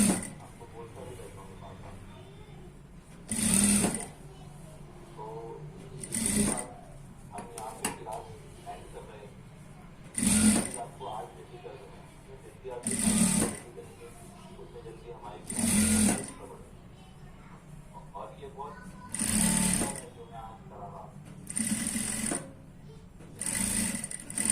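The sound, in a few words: sewing machine stitching pieces of a one-piece dress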